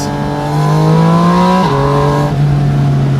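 A 2025 Porsche Spyder RS engine revs loud and close, its pitch stepping down sharply twice as it drops through the gears in quick succession, with no one talking.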